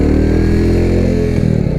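A Royal Enfield Classic 350 motorcycle pulls away under load, its single-cylinder engine thumping steadily and loudly close by.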